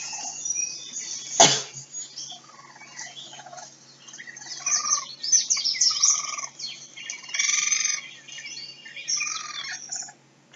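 A baby raccoon makes small squeaky, chittering sounds while forest birds chirp and tweet around it, with a sharp click near the start and the calls coming in scattered bursts throughout.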